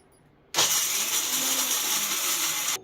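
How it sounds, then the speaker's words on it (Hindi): A mixer grinder pulverises roasted peanuts into fine powder in a steel jar, a loud steady high-pitched whir that starts abruptly and runs for about two seconds before cutting off, with no talk over it. "मूंगफली को हम इस मिक्सर जार में डाल देंगे और इसका फाइन पाउडर बना लेंगे।"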